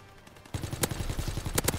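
Rapid automatic gunfire in Call of Duty WWII prop hunt mode, a burst of close, loud, rhythmic shots starting after a quiet half second and continuing to the end.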